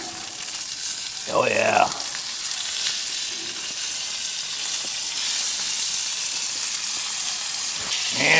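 Bison strip steaks on a hot grill give off a loud, continuous sizzle and hiss, with a man's short exclamation near the start and the sizzle swelling slightly toward the end.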